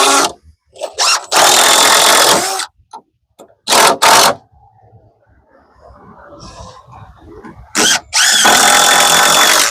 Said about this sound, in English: I was just trying to drill counterclockwise